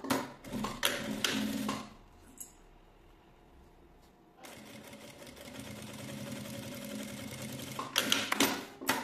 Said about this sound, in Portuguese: E agora eu vou costurar esse viés aqui nas laterais.